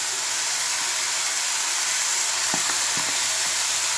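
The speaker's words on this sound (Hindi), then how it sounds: "अब मैं इसमें कटी हुई प्याज की भाजी," Chopped spring onion greens dropped into a frying pan bring a dense, steady sizzle, with a few short spatula clicks and taps in the last second and a half and no speech.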